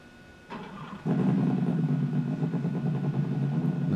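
A simulated RC buggy engine from an ESS-one sound box starts up, with a brief crank followed by a steady, buzzy idle with a rapid, throbbing pulse, close and continuous.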